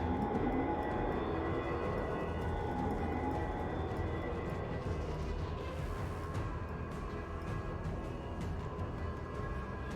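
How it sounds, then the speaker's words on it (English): Submarine propeller noise picked up on sonar in Destroyer: The U-Boat Hunter, a strong, steady wash of low churning rumble with faint rhythmic ticking, continuous and unchanging for the whole stretch. "Very strong propeller noise."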